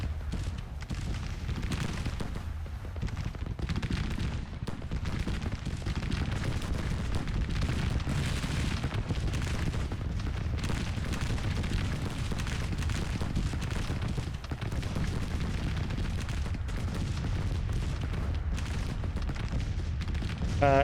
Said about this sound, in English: Because the cannons here will just make short work of anything.